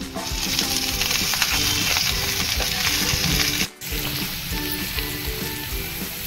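Garlic, onion and curry leaves with mustard seeds sautéing in a pan for a bean bhaji, a loud, continuous close sizzle with scraping stirs, briefly interrupted by a short dropout before carrying on.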